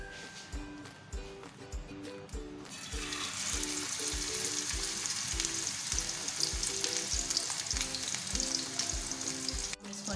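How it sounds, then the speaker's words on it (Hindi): Chapli kabab is lowered into hot oil and fries with a steady, close sizzle that swells and then holds, over a faint rhythmic tapping. "अब हम इसको ऑयल में डालेंगे।"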